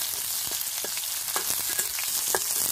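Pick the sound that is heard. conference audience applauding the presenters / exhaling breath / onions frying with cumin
onions frying with cumin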